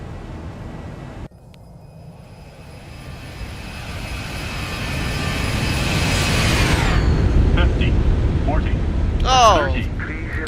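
An airliner roars past in a flyby in the X-Plane 11 flight simulator, engine whine and rumble swelling steadily to a loud peak, then dropping in pitch as it passes, with a voice briefly exclaiming near the end.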